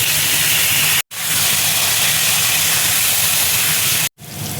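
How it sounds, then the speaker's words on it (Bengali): Potato pieces fry in hot oil in a kadai, giving a loud, steady sizzling hiss that runs close and constant, broken by two abrupt silent gaps. "এবার দেখো আলুটা আমি তেলের মধ্যে দিয়ে দিচ্ছি।"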